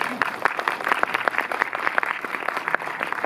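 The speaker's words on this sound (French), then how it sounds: "C'est maintenant qu'il faut l'applaudir" An audience claps for the film distributor at a preview screening of "Harka" at the Méliès cinema in Montreuil, a steady patter of many hands sustained close by for a few seconds.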